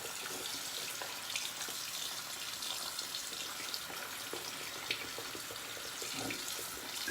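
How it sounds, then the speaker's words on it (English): A shaving brush whipping up lather from Jeeves Mountain Rain soap, a steady wet, frothy swishing that runs continuously and close, with no talking. "So right now that the lather is building"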